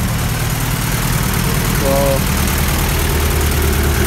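A Honda H22 engine idles steadily in a car, a low continuous rumble with a slight uneven knock, while a voice briefly speaks over it.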